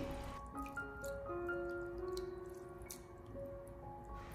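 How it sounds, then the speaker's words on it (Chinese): Shredded ginger and scallion washed by hand in a bowl of water, with soft splashing, squishing and drips, faint and close, over a faint background tone. "再往碗中添加适量的清水，用手将它简单的清洗一下，把姜葱丝里面的粘液清洗干净"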